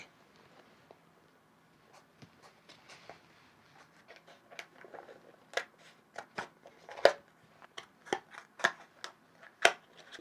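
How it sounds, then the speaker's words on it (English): Scissors cutting through plastic candy packets, a series of sharp snips and crinkles that start sparse and faint, then grow louder and more regular, with no talking. "First, we got to cut the plastic."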